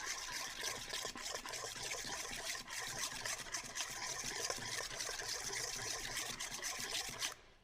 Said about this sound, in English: We're going to stir all this together